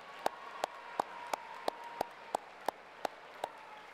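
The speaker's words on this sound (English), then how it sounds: "give them a round of applause as well" Faint, evenly spaced claps at a high school graduation ceremony, about three per second, like a single person clapping steadily over a quiet background.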